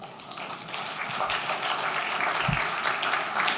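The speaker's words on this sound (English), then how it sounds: "Please, you may applaud him when he comes in." Audience applause at a business panel event on valuing natural capital as a panelist enters, a steady dense wash of clapping filling the room throughout.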